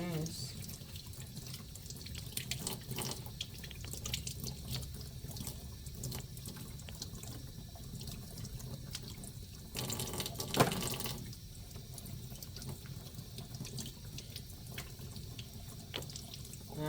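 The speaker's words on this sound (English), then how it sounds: "Now I have to rinse." A bathroom or sink tap runs steadily while a denture is rinsed during mouth care for a resident, a continuous close water stream with splashing that swells briefly near the middle.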